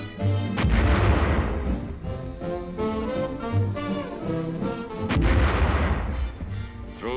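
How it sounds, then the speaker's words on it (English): A 37-millimeter catapult shell fires a tower seat ejector during ground training, giving two loud, booming blasts about four seconds apart with rumbling decay between them. "A 37-millimeter catapult shell assembly is fixed in the tower ejector, and the ejectee performs all normal cockpit operations in arming and firing the shell."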